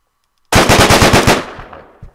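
Rapid automatic gunfire from the video game Deadbolt, a burst of about ten close, loud shots in quick rhythm followed by a decaying tail and one last isolated shot.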